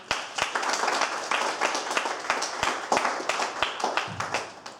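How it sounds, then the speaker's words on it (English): An audience applauds after an Islam Awareness Week talk, with steady, moderately loud clapping from a modest crowd and some sharper individual claps throughout, lasting close to five seconds. "Can we give one last round of applause for Kaiser Aslam?"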